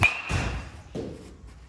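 A yellow and red BBCOR baseball bat hits a ball in a few sharp, thudding impacts: one right at the start, another just after, and a third near the middle, each fading quickly with no talk over them.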